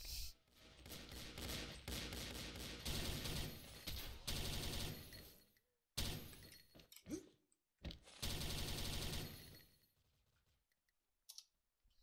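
Gunfire from the shooting game XSHOT comes in loud, fast automatic bursts of rapid shots, split by short pauses and silent gaps, with keyboard clicking mixed in.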